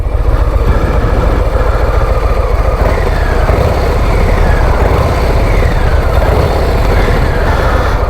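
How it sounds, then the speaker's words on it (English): A Harley-Davidson Low Rider ST motorcycle with its stock exhaust revs, giving a loud, steady, deep engine rumble that stays close and fills the whole stretch without any talk over it. "If I give it a bit of a rev"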